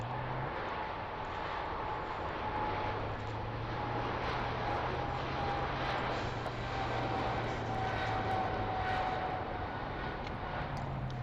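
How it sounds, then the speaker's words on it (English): A Boeing 777 airliner departing Heathrow for Hong Kong drones steadily and evenly over a distant broadband roar, continuous for the whole stretch with no voices. "It's a Boeing 777, heading to Hong Kong."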